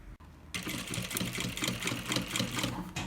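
A sewing machine runs steadily, stitching bias binding onto a baby's bag, with a brief quiet start before a continuous close whirring hum.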